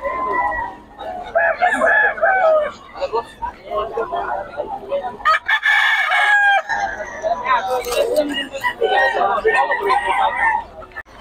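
A gamefowl rooster crows loudly and close several times in a row at a busy cockfighting-bird market in Bocaue, with clucking and other fowl around and people talking over it.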